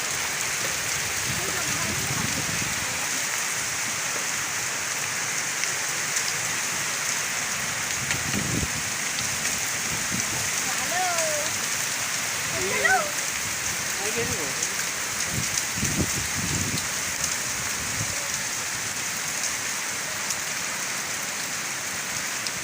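Steady rain falling hard during a Kalbaisakhi hailstorm, a dense continuous hiss of drops on surfaces, with occasional nearby knocks and faint voices in the background.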